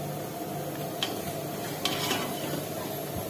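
Onions for chicken biryani fry in a pan while being stirred, giving a steady close sizzle broken by a few sharp scrapes of the spoon against the metal.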